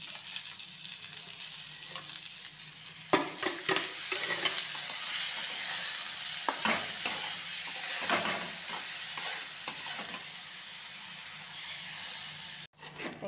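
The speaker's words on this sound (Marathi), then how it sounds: "आणि भगर आहे ना, ही भगर त्याच्यात भाजून घेऊ आपण" Barnyard millet (bhagar) roasting in ghee in a kadhai over low heat, a steady soft sizzle with irregular scraping and stirring clatters throughout, close up and continuous, no talking.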